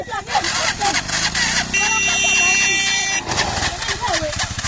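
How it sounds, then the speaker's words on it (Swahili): A motorcycle engine fails to start. The starter cranks with a strained buzzing whine for about a second and a half mid-clip and never catches, over a noisy outdoor background with people nearby. "Pikipiki yangu imekoma kuwaka"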